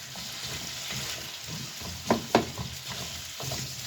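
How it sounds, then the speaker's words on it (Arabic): Potatoes frying in oil in a pan give a steady low sizzle, with a few sharper scraping knocks of a utensil stirring them midway through; close and fairly quiet, no talking. "نقلب لحد ما تحمر، لحد ما تنشف كده من بره وتحمر"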